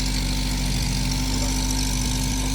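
A 1980 MG engine roars loudly on a dyno, a steady, heavy droning rumble held at high revs throughout, close and unbroken.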